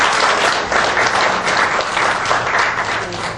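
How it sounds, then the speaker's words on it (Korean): Lecture audience at a 2014 economic policy talk in Korea applauding, a dense, steady burst of many hands clapping, loud and close, with no speech over it. "다시 한번 큰 박수 부탁드리겠습니다"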